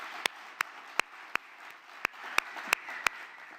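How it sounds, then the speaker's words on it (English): Sparse, faint applause at a film festival award ceremony, with a few distinct sharp claps standing out over a soft wash of background clapping. "Also, our team of staff, tech, and volunteers, they also need a big round of applause."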